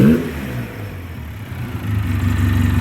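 A 2009 Polaris Sportsman 800 ATV engine, recently troubled but now running well, idles close by, dips, then revs up again toward the end in a throaty, steady rumble with no talking.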